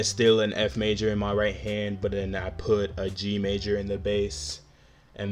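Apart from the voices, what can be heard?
No distinct noise like a dog, phone or traffic.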